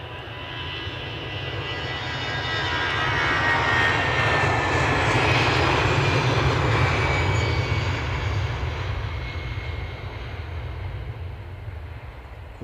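Jet airliners taking off and landing at Edinburgh Airport, heard as a loud, steady engine roar that swells toward the middle and stays broad and continuous throughout, with no voices.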